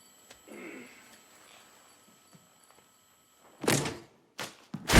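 A garage door slamming in a horror movie: a heavy, loud thud after a quiet stretch, followed by two more sharp impacts close together.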